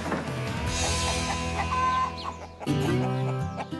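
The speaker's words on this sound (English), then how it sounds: "These are our meat chickens." Meat chickens on a family farm in North Highlands cluck and call close by, a steady layered mix of overlapping bird voices with no talking.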